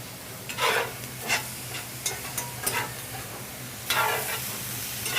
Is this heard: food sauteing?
yes